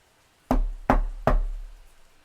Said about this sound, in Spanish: 3 golpes secos se escucharon en la puerta de madera carcomida